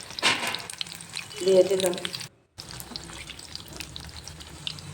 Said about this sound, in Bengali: এগুলিও লাল লাল করে ভেজে নেব।